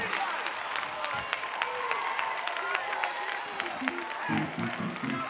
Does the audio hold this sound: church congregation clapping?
yes